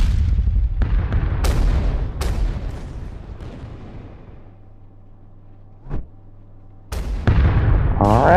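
Heavy naval gunfire booms in World of Warships aboard HMS Repulse, a rapid series of loud cannon blasts with rumbling decay, a quieter lull, then more thunderous salvos near the end.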